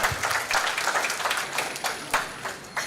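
Conference audience at a mental health and media event gives a round of applause, with dense, close, steady clapping for a few seconds.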